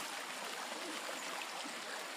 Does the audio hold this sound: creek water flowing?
yes